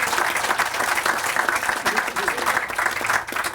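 A crowd applauds at a dedication ceremony in a tent honoring a pioneer in technical education at Lake Tech, with brisk, close clapping of fluctuating density running throughout and some voices mixed in.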